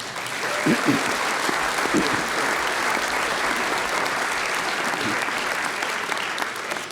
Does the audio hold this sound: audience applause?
yes